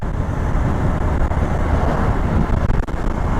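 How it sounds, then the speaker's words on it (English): A Honda Nighthawk 650 shaft-drive motorcycle engine idles quietly and steadily, a low, even rumble that holds constant throughout with some wind noise over it. "the engine, as you can hear, is very quiet indeed"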